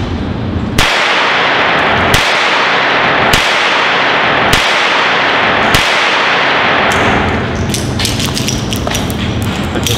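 Five sharp gunshots from a small .25 auto pistol at a shooting range, evenly spaced cracks each followed by a short ringing tail, loud and close, ending in a brief clatter of lighter knocks and no talking.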